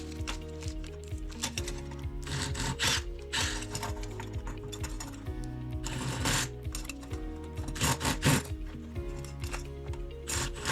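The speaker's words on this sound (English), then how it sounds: "let me just remove the screw from the drywall anchor in between the bracket." A screw being backed out of a failed drywall anchor holding a blind bracket, heard as a close mechanical ratcheting, whirring driver sound in several bursts.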